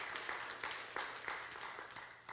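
A church congregation claps in praise during a Sunday sermon at a Korean church in Incheon, soft, fairly distant applause with a few sharper individual claps standing out.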